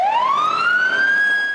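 A fire engine siren from Torrance Fire Station 6 wails alone, its tone sweeping steadily upward and holding high, loud and close with no voices.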